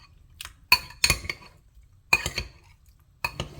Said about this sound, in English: And then I'm going to give this a good stir.